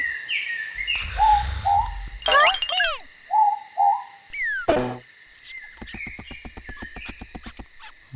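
A night chorus of insects and frogs, with an owl giving several short hooting calls in pairs, fairly close and clear over the steady trilling.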